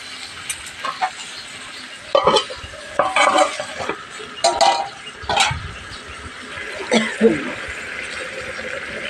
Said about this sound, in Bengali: ভালোভাবে নাড়াচাড়া দিয়ে দিচ্ছি ভালোভাবে নাড়াচাড়া দিয়ে দিলাম